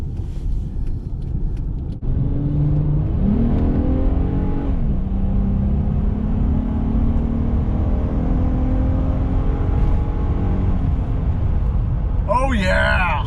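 A 2010 Honda Pilot EXL with stock exhaust accelerates hard, its engine note climbing steadily through the gears. It is loud and continuous, heard from inside the cabin, with voices talking over it.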